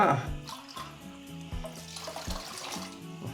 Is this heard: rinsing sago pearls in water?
yes